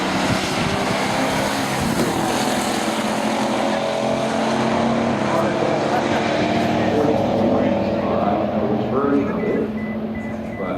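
A 1962 Pontiac Grand Prix drag racing at a pure stock drag strip event, engine roaring loudly and continuously as the car runs, with an announcer talking over it.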